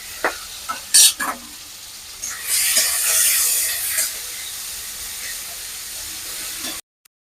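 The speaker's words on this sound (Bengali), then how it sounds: "চিংড়ি মাছগুলো একটু আমি ভেজে নেব হালকা করে।" Prawns coated with salt and turmeric fry lightly in oil, giving a soft hiss with a few sharp crackles and a louder sizzling swell in the middle before the sound cuts out.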